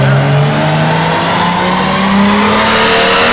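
A Toyota JZA70R Supra's turbocharged engine, fitted with a Chinese TR44 turbo, revs hard on a dyno, a loud sustained roar with climbing pitch filling the whole stretch, no talk over it.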